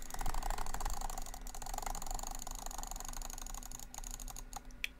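A computer mouse is clicked very fast, around 13 clicks per second, making a dense, rapid, even rattle of close, sharp taps that runs continuously and ends in a few louder clicks.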